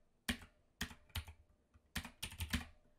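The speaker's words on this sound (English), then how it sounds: "what I'm going to do is type in the correct name as spelled by the witness." Someone types a name into spellcheck software on a computer keyboard, a quiet, close run of irregular keystrokes in short clusters with brief pauses.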